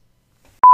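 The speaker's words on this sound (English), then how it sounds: "That's my phone." A mobile phone gives off a short electronic tone burst at about one steady pitch, two close beeps starting after near silence, loud and clear with no talk.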